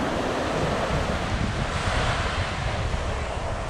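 Rough ocean swells wash against a beach in St. Thomas, with a steady, dense roar of surf and gusting wind buffeting the microphone throughout and no talking.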